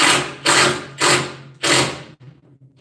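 A welding clamp mechanism ratchets in three loud, close bursts of clicking, each about half a second long, followed by a few faint clicks.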